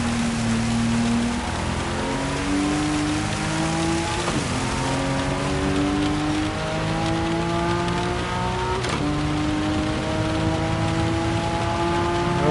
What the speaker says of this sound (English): Heavy rain now.